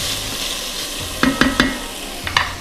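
Seasoned food being stirred in a pan, with a steady low sizzle underneath and several sharp scraping knocks of the utensil against the pan in a short burst, then one more near the end.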